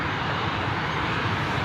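A Jet2 passenger jet at Newcastle International Airport, its engines giving a steady, continuous broadband roar that holds level throughout, close and fairly loud with no voices over it.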